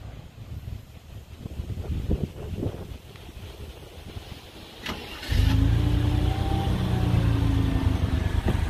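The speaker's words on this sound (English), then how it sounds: "I'm going to start this car up." Wind buffets the microphone, then an engine cranks and catches, settling into a loud, steady idle nearby for the rest of the clip.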